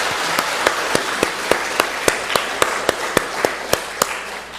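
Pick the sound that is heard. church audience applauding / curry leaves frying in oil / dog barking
church audience applauding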